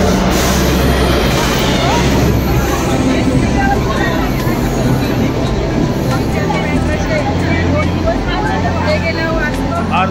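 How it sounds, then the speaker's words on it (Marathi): A passenger train pulls into a station platform with a loud, continuous rumble and rolling noise, overlaid by crowd babble from waiting travellers throughout. "ही पहा आमची ट्रेन, या ट्रेनने आम्ही प्रवास करतोय"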